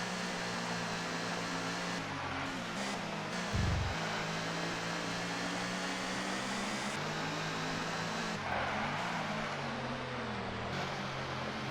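Touring car engine droning at high revs around the Croft circuit in the ToCA 2 racing game, a steady loud buzzing hum with brief pitch shifts from gear changes, heard alone without talk.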